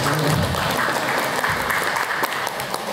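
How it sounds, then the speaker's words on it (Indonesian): A seminar audience at a small-business IT event in Tulungagung, East Java, breaks into loud, dense applause that carries on evenly for a few seconds. "Beri tepukan dong."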